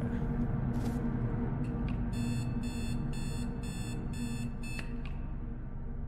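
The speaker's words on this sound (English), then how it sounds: "So this beeped 6 times." A device in a horror video game beeps six times in a short regular series of bright electronic tones over a steady low game drone, with no talking.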